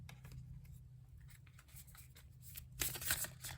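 Tarot cards being shuffled by hand, soft papery riffles and slides close by under a low steady hum, ending in a louder brisk flurry of shuffling.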